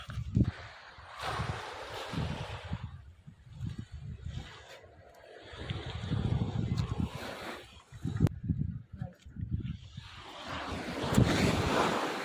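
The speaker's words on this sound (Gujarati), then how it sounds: "દરિયાનો અવાજ સંભળાય તમને મોજાનો ઘૂઘવાટ" Roaring sea waves break in repeated surges, each swelling into a loud rush and fading, with heavy wind gusting against the microphone.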